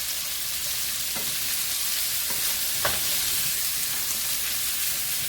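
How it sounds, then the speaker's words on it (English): Seasoned potatoes for a ground beef curry cooking down in a pan, a steady hissing sizzle with a few soft stirring scrapes, close and continuous. "the potatoes have all their seasoning, and we're cooking it down some"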